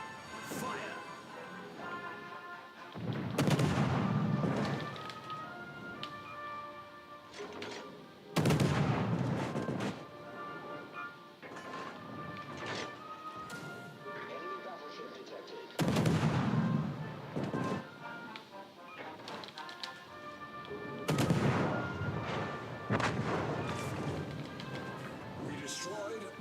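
Heavy warship gun salvos boom repeatedly in World of Warships: Legends, several loud blasts with rumbling decays spaced several seconds apart, over a bed of game music and occasional talk.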